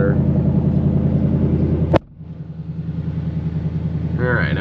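A stock factory car engine in sport mode idles with a deep, steady rumble, then gives one sharp bang or pop before settling back into a lower drone while a voice talks briefly near the end.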